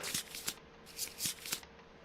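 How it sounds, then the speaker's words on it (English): A deck of cards being shuffled during a Kingdom Death tabletop board game: a few quick, close riffle bursts separated by short pauses, with no talk. "Shuffle him up."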